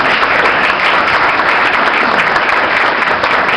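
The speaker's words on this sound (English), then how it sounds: "please give her a big round of applause" Audience applause for someone speaker from Spark at an event, a dense, steady clapping wash that stays loud and continuous from start to finish with no voices over it.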